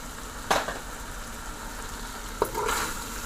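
Beef liver curry with freshly chopped cilantro being stirred in a pan, with two short, soft scrapes of a utensil about two seconds apart over a quiet background hiss.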